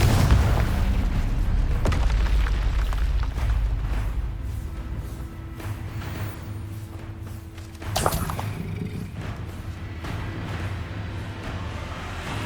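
Explosive Confringo spells go off in Hogwarts Legacy as heavy low booms and thuds. A sharp, louder blast hits partway through, surrounded by rumbling battle effects.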